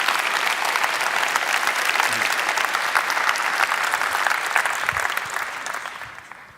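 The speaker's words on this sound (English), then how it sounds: "I give everybody an applause for them." A keynote audience at a large tech conference breaks into steady, dense applause that holds at full strength for several seconds before beginning to thin out at the end.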